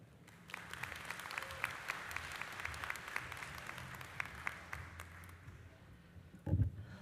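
A commencement audience at a university health college ceremony applauds steadily to welcome a speaker, a sustained wash of clapping from a large crowd, with a brief thump at the end.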